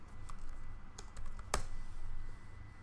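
Someone types on a computer keyboard, a handful of light, irregular clicks with one sharper keystroke near the middle, fairly quiet over a low hum.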